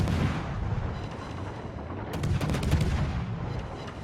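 Warship main guns firing in naval combat in World of Warships, a dense cluster of loud booming shots landing partway through over a steady background rumble.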